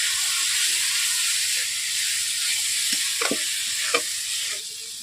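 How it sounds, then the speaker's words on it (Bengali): Pointed gourd and potato pieces sizzle steadily in a hot pan with a constant broadband frying hiss, broken by a few soft stirring scrapes and clinks. "পটল আলুগুলোকে আমি 10 মিনিট কষিয়ে নেব।"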